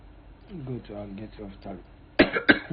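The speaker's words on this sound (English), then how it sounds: "Sorry, I've been coughing." Speech in the first part, then two sharp, loud coughs close to the mic, a short pause between them.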